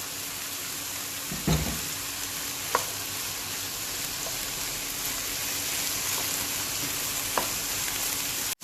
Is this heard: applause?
no